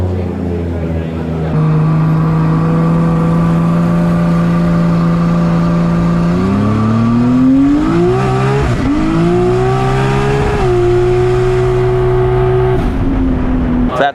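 Nissan R33 GTST with over 1000 horsepower on a track run, its engine roaring loud and close, rising through several gear changes with brief dips between them before holding a high, strained tone.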